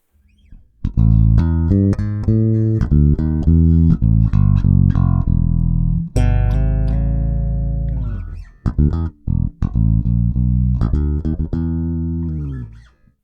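A Bogart Karl Clews Signature Broadsword electric bass, bass control boosted, plays a steady run of plucked notes with a heavy low end, loud and close, with no talking over it.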